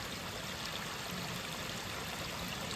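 Abbey Brook, a Peak District stream, flows steadily in a soft continuous wash of water, faint and unbroken with no voices.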